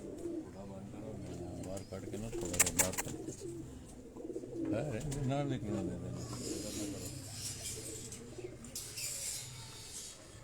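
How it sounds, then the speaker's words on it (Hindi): Breeder pigeons let out of their lofts coo and flutter nearby, their soft calls mixing with someone talking throughout. "ये कबूतर अभी हमने ज़रा थोड़े से बाहर निकाले हैं नीचे"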